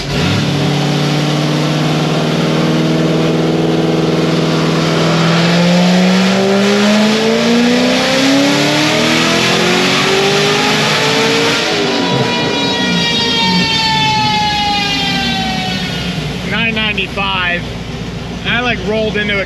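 A Chevrolet Corvette C6 ZR1 on a dyno, running on pump gas with cold tires, revs up in a long pull, its loud engine tone climbing steadily before dropping off, with talk mixed in.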